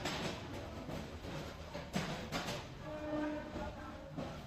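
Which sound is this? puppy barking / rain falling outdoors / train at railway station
train at railway station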